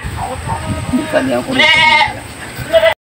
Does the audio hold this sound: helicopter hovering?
no